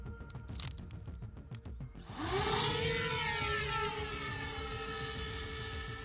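Russian drone approaching, a rising motor whine that swells in after a ticking, clattering stretch and then holds as a loud, steady buzzing drone with a high harmonic tone, no voices.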